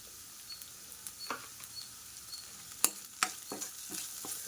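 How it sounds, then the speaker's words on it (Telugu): Turmeric stirred into jackfruit seed curry frying in a pan, with a soft steady sizzle and scattered scraping clicks of a spoon against the pan, a few sharper knocks near the end, no speech. "పసుపు వేసుకుని బాగా మిక్స్ చేసేద్దామండి"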